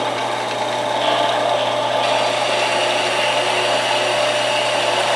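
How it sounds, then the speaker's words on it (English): A horizontal metal-cutting bandsaw runs loud and close in a workshop, a steady mechanical drone with a whining motor tone that shifts slightly as the cut begins. "I'm going to use my bandsaw. Every homeowner has a horizontal metal cutting bandsaw"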